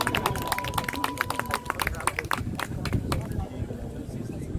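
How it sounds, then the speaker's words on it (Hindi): A group of children at a fitness and yoga session claps loudly in irregular, scattered bursts over a low murmur of voices. "एक बार जोरदार तालियां बजाओ।"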